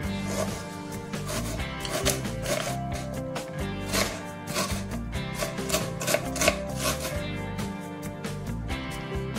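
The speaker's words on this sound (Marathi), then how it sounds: "1-2 सेकंद थांबून आपण चिरायला सुरुवात करूया।" A knife chops onion on a board in quick, steady repeated strikes, close up, over continuous background music.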